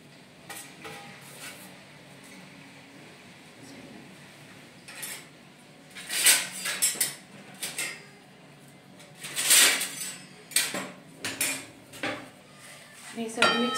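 Curry leaves and other ingredients for a homemade hair oil being mixed in a metal vessel, heard as repeated clinks and scrapes of a spoon against the pot, sparse at first and then louder and more frequent, with no talking.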